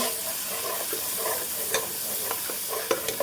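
Chicken liver noodle masala with tomato sauce sizzles steadily in a hot pan while being stirred, with a constant frying hiss broken by occasional sharp scraping clicks of the utensil.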